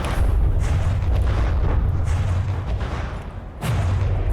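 A big explosion in the game From the Depths during an airship battle, a loud sustained rumbling boom with a second low blast near the end, heavy and close.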